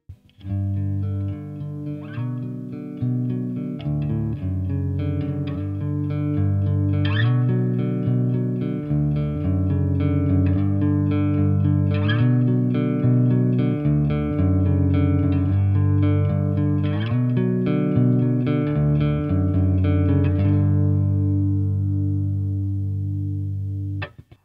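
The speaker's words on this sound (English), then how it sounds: "without even turning the pedal on, there's already some harmonic distortion in the signal path" An electric guitar plays through a Boss Katana 50 amp, miked with a Shure SM57, with a Behringer TO800 tube overdrive pedal bypassed. Sustained chords ring steadily for over twenty seconds with a faint edge of harmonic grit.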